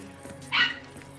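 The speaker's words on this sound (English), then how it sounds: "And I hear Kisa barking in the back" A dog barks once, a short bright yelp standing out briefly in the background of a game session, over a low steady hum.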